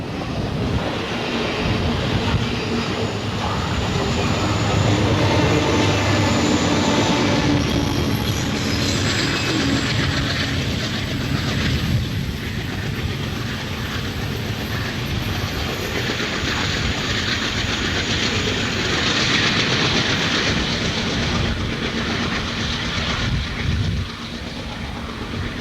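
A long Norfolk Southern freight train on the Pocahontas Division, with manned pusher locomotives, rumbles past close by in 1990, a steady loud roar of rolling wheels and rail clatter with occasional squeals, continuing throughout.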